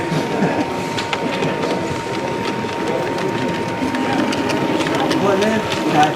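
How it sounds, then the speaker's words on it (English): Model railway trains rolling past on a detailed layout at a model railway show, a continuous close rumble with faint rhythmic clicking, a steady hum and background crowd chatter. "If I pop you down here for a couple of cinematic shots of the trains passing"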